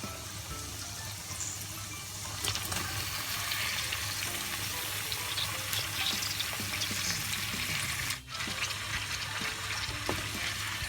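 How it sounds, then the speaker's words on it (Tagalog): Shrimp stir-fried with onions and chilli in a pan give a loud, continuous, dense sizzle with faint stirring scrapes, briefly dipping near the end before the frying resumes. "So hahaluin lang natin yung shrimp. Bale, igigisa natin siya."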